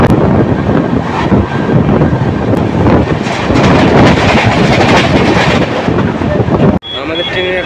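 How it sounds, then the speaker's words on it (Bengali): Paharia Express LHB passenger train running at about 108 km/h, a loud steady rumble and rattle of wheels on track with roaring wind buffeting the microphone, cut briefly near the end. "আমাদের ট্রেনের এখন বর্তমান স্পিড 108 কিলোমিটার প্রতি ঘন্টা।"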